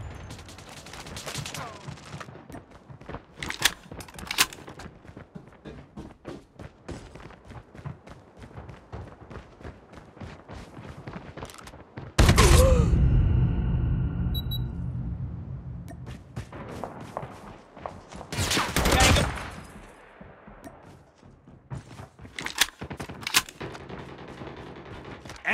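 Video game gunfire from Call of Duty, with dense bursts of rapid automatic shots, a loud heavy blast midway that rumbles and fades, and scattered single and clustered shots throughout.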